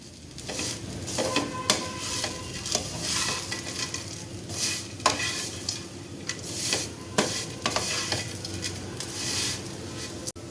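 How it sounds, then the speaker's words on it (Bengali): Vermicelli (semai) fries over a low flame while being stirred constantly, a steady sizzle and rustle broken by repeated scraping and tapping of the spoon against the pan, close and continuous. "এটা অনবরত নেড়ে চেড়ে ভাজতে হবে"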